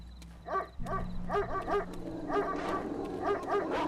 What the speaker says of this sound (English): And of course the dogs are back.